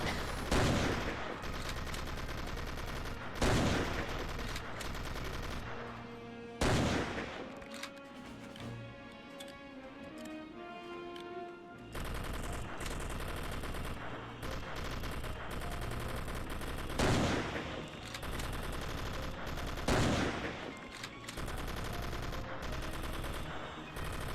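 Gunfire from the Xbox game Commandos: Strike Force rattles in sustained bursts, with several heavy, sharp shots standing out over a dense, steady layer of in-game combat sound.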